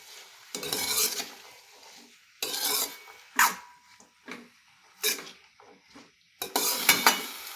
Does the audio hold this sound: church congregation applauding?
no